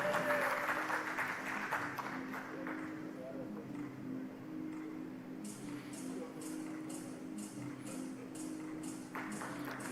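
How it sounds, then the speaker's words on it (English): Audience applause at the World CIO 200 Summit grand finale awards, steady clapping from a large room with some background chatter and stage noise, moderate and sustained throughout. "Fantastic round of applause"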